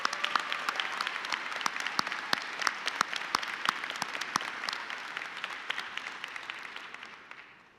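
An audience at a culinary school fall commencement ceremony applauds after speeches, with a sustained burst of crisp clapping that gradually fades out toward the end.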